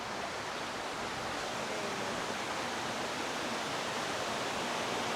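A river near Benamahoma rushes with strong force, a dense, loud, steady roar of fast-flowing water heard on its own.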